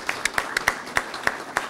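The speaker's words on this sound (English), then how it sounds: "please give her a good hand of applause" A small audience applauding at a scientists' forum debating a landfill, sparse, distinct claps spaced irregularly, fairly close and modest in volume.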